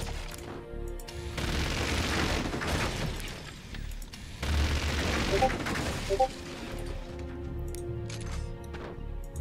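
Cannons firing in the Forts strategy game: a series of heavy booming shots and crashing impacts against a busy battle soundscape, steady and fairly loud throughout.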